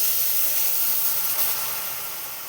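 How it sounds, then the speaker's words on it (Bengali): Milk poured into a hot kadai for makhana kheer, already boiled down thick, sets off a steady loud hiss and steam that fades slightly over a couple of seconds, with no voices. "আমি কড়াইতে দুধটা দিয়ে দিচ্ছি।"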